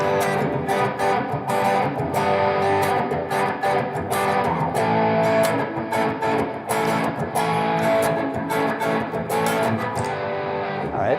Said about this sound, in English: I'm just going to record a little backing track here using those two chords